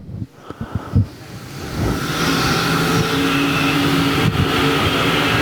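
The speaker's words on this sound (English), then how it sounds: "Prather in that new to him IRP car" Race cars circle the Devil's Bowl Speedway track. A few loud knocks and thumps come first, then a strong engine roar builds and holds as a continuous blare with wind noise over it.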